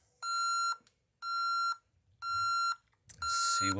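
A Honeywell home alarm system emits three evenly spaced, steady electronic beeps while being set, followed by the start of a fourth, fairly quiet in an indoor room.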